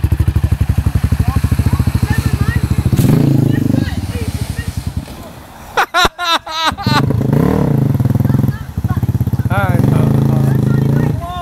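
A motorcycle engine throbs close by in an outdoor spot, its revs rising and falling over a rough, pulsing drone while people shout and talk loudly over it.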